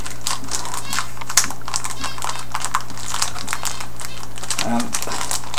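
A taped plastic comics bag crinkles and crackles in short, close bursts of rustling as it is pried open, with a voice faintly present.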